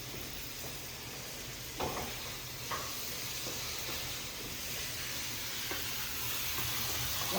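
Onions and tomatoes sautéing in a pan in a home kitchen, a steady soft sizzle and hiss with occasional stirring scrapes and clinks, moderately quiet and with no one talking.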